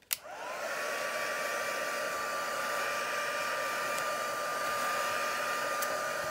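Steady, loud whirring blow of a hair dryer drying paint on an art journal page, switching on with a brief rising whine and then running evenly and close throughout.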